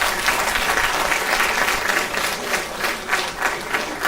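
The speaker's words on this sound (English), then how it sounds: "Can we please give Priya a round of applause?" A conference audience gives sustained applause, a dense wash of many hands clapping evenly throughout with slight swells, no talking over it.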